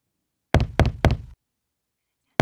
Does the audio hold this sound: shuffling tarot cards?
no